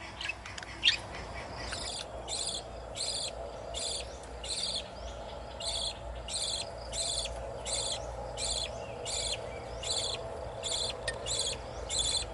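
Baby budgie chicks chirp from a nest box while being fed, a rapid series of rhythmic high squeaky calls repeating steadily, close by over a quiet background.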